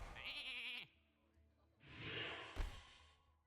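Cartoonish sheep bleats from a Hearthstone-style card game, a wavering, quavering baa followed by a second broader bleat with a sharp click, loud and close with no talk over it.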